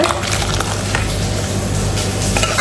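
Spices tempering in hot oil in a pan for an Onam sadhya meal, a steady dense sizzle and crackle with faint stirring, close and continuous throughout.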